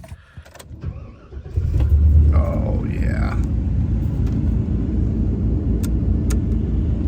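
A Harley-Davidson Evo chopper motorcycle engine with bent pushrods cranks and catches, settling into a loud, steady rumbling idle; a man briefly exclaims as it starts.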